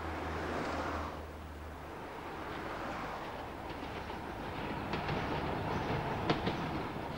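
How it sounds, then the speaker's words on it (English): A Newcastle Metro local train runs on Tyneside's new electric railway, its steady rumble and rolling wheel noise continuous throughout, with clickety-clack rail joints and a sharp click near the end, no talking. "This is the Metro, Newcastle's gleaming new local railway system"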